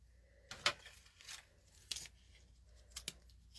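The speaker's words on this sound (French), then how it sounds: "Il restait juste à couper." Scissors cutting ribbon while making a graduation card, several quiet crisp snips spaced about a second apart, close up and with no talking.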